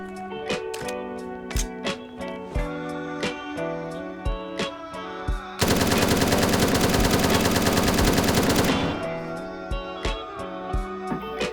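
An M4 rifle fires in the game Zero Hour: Operation Black Dawn, first in short controlled bursts, then in one long sustained full-auto stream, then short bursts again, loud and close, with no talking.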